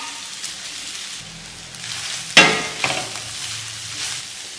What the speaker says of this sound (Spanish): Cuando la cebolla empiece a cristalizar, integramos el pollo que ya lo tenemos deshebrado